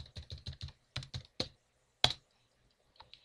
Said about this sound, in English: now just type your password in.